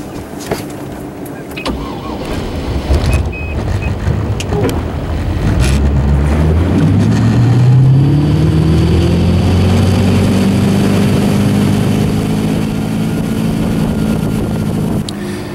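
Car cruising at about 30 mph while towing an inflatable tube behind it, a steady engine and road drone that swells and holds loud and close throughout, with a low rising engine tone midway.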